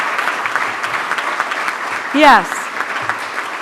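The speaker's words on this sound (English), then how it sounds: "If I could get you a really big round of applause for all of these people" An audience claps in a big round of applause at a Camp Enterprise event, a dense, steady patter throughout, while a single voice speaks briefly over it.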